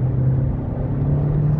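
Inside a Kia K8 hybrid under hard acceleration, a steady low engine hum and road rumble hold constant and close for a moment.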